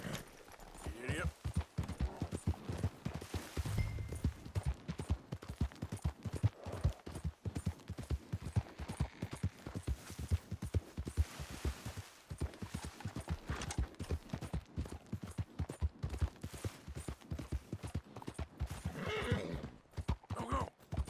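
A horse in Red Dead Redemption 2 gallops with rapid, rhythmic clip-clop hoofbeats throughout, occasional whinnies rising over the hooves, and a voice talking at moments.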